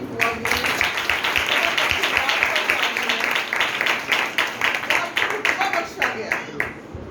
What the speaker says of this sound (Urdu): اس بات پر زوردار تالیاں ہونی چاہیے.